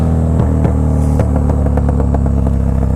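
KTM Super Duke motorcycle pulling a wheelie under hard acceleration, its engine droning loud and steady with a rising, buzzing tone, close and alone with no talk.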